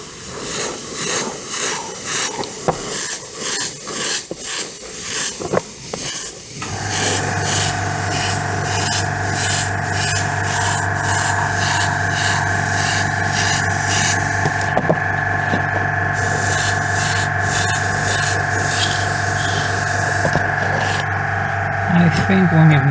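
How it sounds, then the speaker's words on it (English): A steady, loud airbrush compressor hums with constant tonal drone and hiss while a 1/48 Timberwolf model is painted, starting after several seconds of rubbing and handling noises and running continuously to the end. "Thank you, compressor."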